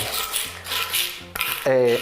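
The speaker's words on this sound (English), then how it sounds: "press it between your knife and the chopping board with a bit of salt" Garlic crushed with salt under a knife blade on a chopping board, gritty rasping scrapes in repeated strokes, close and fairly loud over a faint musical background.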